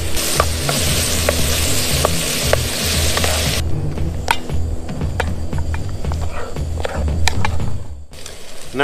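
Green peppers, tomato and mushrooms sizzle and crackle steadily in a hot frying pan on a Trangia camp stove, with scattered clicks and scrapes of stirring; the frying sound stays loud and continuous throughout.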